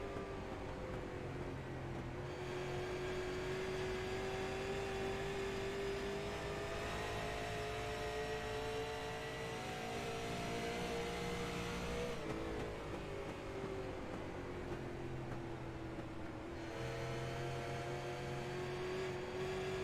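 Super late model race cars lap Rockingham Speedway at night, a steady engine drone rising and falling in pitch as the pack circles, heard continuously from a distance without talk.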